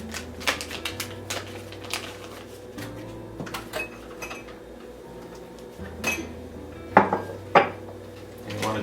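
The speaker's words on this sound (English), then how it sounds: "You want to make sure that the sugar and the butter is all mixed up" Utensil clinks and scrapes against a bowl while sugar and softened unsalted butter are mixed for air-fryer banana bread, with irregular knocks, a couple of louder taps near the end, and a steady low hum underneath.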